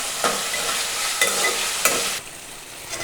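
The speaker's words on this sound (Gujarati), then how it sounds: "ફ્રેન્ડ્સ આવી રીતે આપણે બટેટાને તેલમાં બરાબર સાંકળી લઈશું" Potatoes fry in hot oil with a loud, constant sizzle as a spoon sweeps through the pan three times, making brief scraping bursts before the hiss drops a little near the end.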